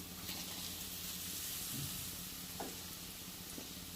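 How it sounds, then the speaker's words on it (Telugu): Fried liver goes into a pan of sizzling onion and ginger paste, a constant loud frying hiss with a couple of soft stirring clicks, no talk. "ఇప్పుడు మనం ఫ్రై చేసి పెట్టుకున్న లివర్ని ఇందులో వేసిద్దామండి."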